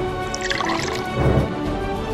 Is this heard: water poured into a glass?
yes